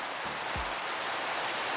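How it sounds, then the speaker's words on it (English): Steady broadband hiss of Minecraft rain, even and continuous throughout, with a couple of brief low thumps early on. "There we go, it's raining."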